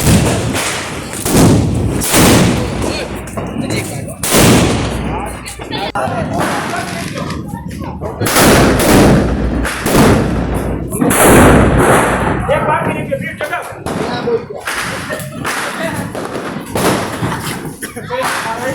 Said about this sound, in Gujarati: ફટાકડા ફોડવાનું શરૂ